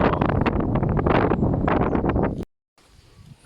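Wind buffets a microphone in a dry-season fruit orchard with mango trees, loud gusty low rumbling for over two seconds, then a sudden drop to quiet before it picks up faintly again.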